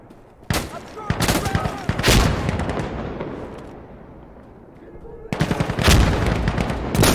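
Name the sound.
SVD rifle gunfire in the video game Insurgency Sandstorm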